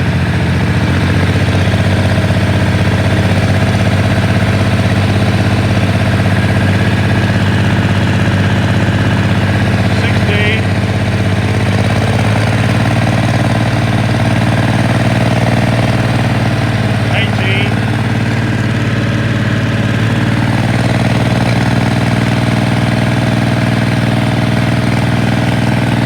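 A Ford 3000 tractor engine runs loudly at about 1,200 revs with an uneven, stumbling beat from misfires, droning continuously close by.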